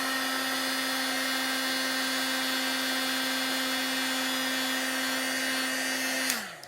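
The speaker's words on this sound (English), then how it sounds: "So when you're heat embossing, you're just looking for the powder to turn into a solid form there, and it's nice and shiny." A heat gun melting embossing powder for papercraft gives a steady, loud blowing whir with a constant motor hum, running unbroken before switching off and winding down near the end.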